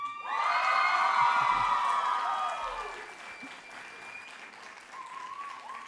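A burst of applause with cheering and whoops from a crowd at a college graduation ceremony, loud at first and then tapering off into quieter scattered clapping.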